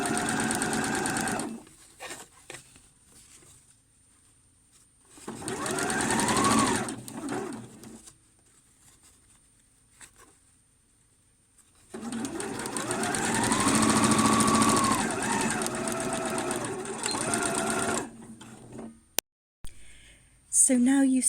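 A sewing machine runs in long steady bursts while stitching bias binding along the bottom hem of pyjama shorts, stopping and restarting several times at close range with a few short pauses.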